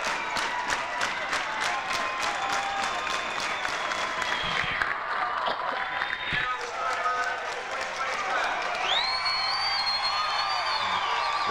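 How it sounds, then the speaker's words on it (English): Crowd applauding and cheering at a 1994 high school basketball district final, loud and sustained, with an announcer talking over it as players are introduced. "The crowd's on their feet for the Titans."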